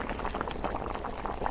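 A pot of stinky tofu braised with pork intestines boils hard at a Yangzhou restaurant, giving a close, continuous bubbling and simmering with no talk.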